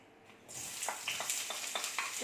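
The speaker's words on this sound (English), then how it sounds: "So we saute the onion now." Onion sautéing in a pan for ratatouille, a hiss that swells in after a quiet start, then a continuous sizzle with rhythmic stirring scrapes.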